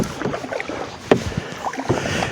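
A canoe paddled on open water, with close paddle splashes and dips in an uneven rhythm over soft ambient water noise, no talking.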